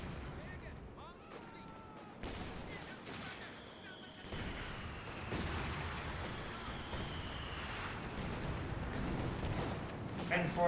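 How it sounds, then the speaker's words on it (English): An artillery barrage falls on a Katyusha rocket launcher in the video game Company of Heroes 2: dense rumbling explosions and gunfire in continuous battle noise, with a rising whistle and a commentator talking throughout. "He's currently barraging the Kennewerfer."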